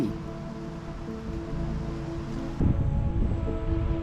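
Ocean waves roll against a rugged stretch of coastline, producing a continuous low, rumbling wash that swells slightly louder partway through, with no voices.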